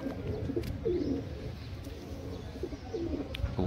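Soft, low cooing of pigeons repeats a few times over a steady outdoor hum, fairly close and unhurried.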